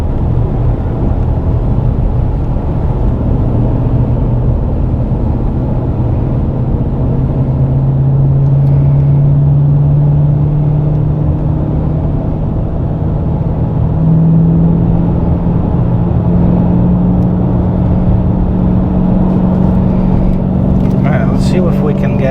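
Dodge Challenger Scat Pack engine pulling steadily as the car drives and accelerates, a continuous deep rumble with a rising drone throughout, heard from inside the cabin with a truck ahead on the road.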